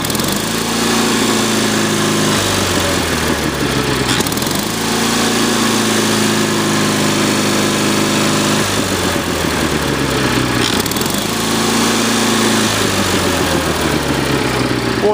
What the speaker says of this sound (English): Go ahead and gun it up here a couple more times.